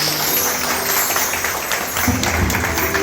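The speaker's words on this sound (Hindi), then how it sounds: "जोरदार तालियों से" Audience at a Rail Bhawan music evening applauding a singer after his first stage performance, a steady wash of clapping from a seated crowd that holds evenly throughout with no talk over it.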